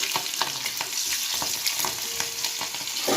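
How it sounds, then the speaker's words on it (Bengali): Whole spices and green chillies fry in hot oil, a steady loud sizzle with sharp crackles and pops and some stirring clatter throughout, no voices. "তেল আমার গরম হয়ে গেছে। তো এটাতে আমি আমার ফোড়ন প্লাস কাঁচা লঙ্কা দিয়ে দেব"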